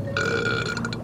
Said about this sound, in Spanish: Solo traga algunas burbujas y deja escapar un gran eructo